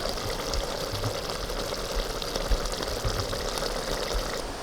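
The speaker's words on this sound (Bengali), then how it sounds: "মাটির হাঁড়িতে মাংস রান্না হচ্ছে তো এরকম গুটগুট করে ফুটবে" A thick chicken curry bubbles and simmers steadily in a clay pot over a charcoal stove, a continuous low gurgling with soft pops, close up and with no talking.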